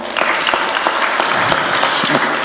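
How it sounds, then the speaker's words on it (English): Crowd clapping at a memorial gathering in Kenya, brisk and continuous, with sharp individual claps standing out of the dense applause for the whole short stretch. "can we just clap for them?"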